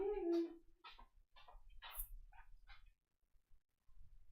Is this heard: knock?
no